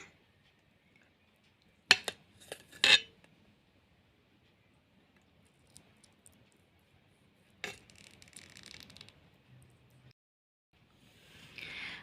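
A knife cuts through a green-coconut pudding on a plate, giving a brief cluster of close clinks and scrapes against the plate, followed by long quiet stretches with faint, soft scraping.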